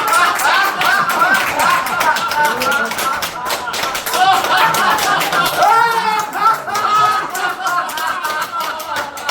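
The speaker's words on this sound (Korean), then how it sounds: "우리는 이종태 목사님이 들어온 상태를 지금 축복해 주는 박수예요." Church congregation clapping together in celebration of a pastor's arrival, steady dense claps with excited voices and chatter mixed throughout, loud and close.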